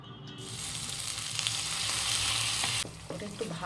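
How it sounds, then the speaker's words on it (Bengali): Turmeric, chili powder and salt sizzle loudly in hot oil in a pan for a jeera ilish hilsa fish recipe, a continuous frying hiss with stirring scrapes, cutting back sharply near the end. "এখানে আমি দিচ্ছি হলুদ গুঁড়ো, তারপর লঙ্কা গুঁড়ো, সামান্য লবণ দিয়ে এটা আমি ভালো করে কষিয়ে নেব।"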